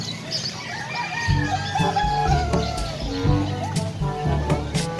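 Chickens cluck and crow close by at a weekend animal market in Angeles, Pampanga, with overlapping calls and a rooster's drawn-out crow amid a busy, noisy outdoor background.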